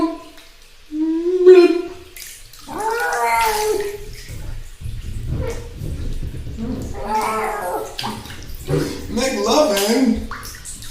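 A voice imitates a cat gargling with its mouth half submerged in bathtub water, making wavering, bubbly, strained cries that rise and fall in several bursts.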